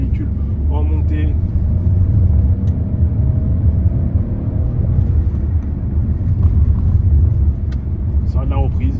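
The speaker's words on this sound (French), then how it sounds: "Je vais un petit peu tirer la deuxième pour voir comment se comporte le véhicule en montée." Peugeot 308 Allure Phase II with a 1.2 THP PureTech 130 hp engine pulling uphill in second gear, a steady loud low engine drone and road rumble heard from inside the cabin, with brief voice sounds.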